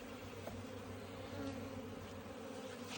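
Honey bees buzz steadily around a beehive, a faint, continuous droning hum from a moderate distance with no speech.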